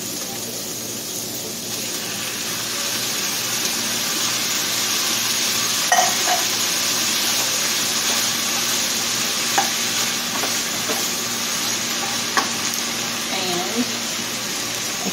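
A spoon stirs browned ground meat with onions, peppers, garlic and Rotel in a hot pan, a steady close sizzle with a few scrapes and clinks along the way.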